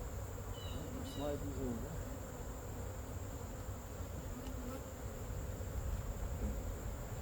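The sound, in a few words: honey bees buzzing around a garden apiary hive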